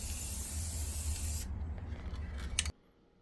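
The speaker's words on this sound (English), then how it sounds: "Then spray the boards about 1 foot away." Gloss sealer sprayed from about a foot away onto 3/4-inch maple boards: a steady close hiss for about one and a half seconds, then quieter spray and handling noises before it cuts to near silence.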